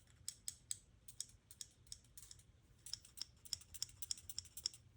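A titanium button lock knife's mechanism gives a string of small, close clicks and faint squeaks in irregular bursts, quiet and with no talk.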